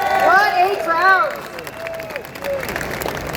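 A crowd at a London free speech rally cheers and whoops loudly, with clapping and raised voices, then the roar settles into a lower crowd murmur.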